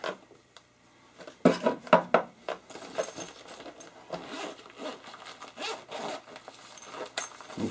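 Zipper on a first aid kit pouch from a survival supply box pulled open in several quick close zips, followed by soft rustling and clinking of contents being handled, no talking.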